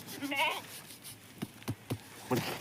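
A sheep bleats once, close and wavering, during PPR vaccination of sheep and goats, followed by a few sharp handling knocks and scuffs.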